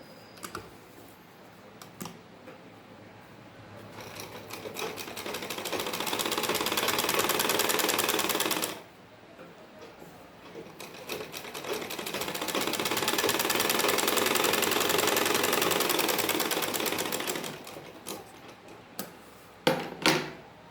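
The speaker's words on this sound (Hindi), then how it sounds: "और आगे तक पट्टी पर सिलाई लगानी है।" Sewing machine stitching a fabric strip for a salwar, running in two long, steady bursts of rapid needle clatter separated by a short pause, then a few scattered clicks at the end.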